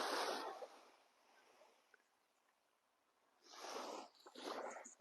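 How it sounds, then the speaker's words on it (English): Sea waves surge in and wash away on a Spanish shore, two broad rushing swells at the start and end separated by a quiet lull, heard from nearby without talking. "Can you hear the sound of the waves?"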